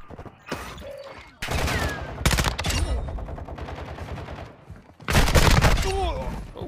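Bursts of automatic gunfire from an enemy squad in a shooter video game, loud rapid volleys in separate bursts with gaps between, under occasional game voice and radio chatter.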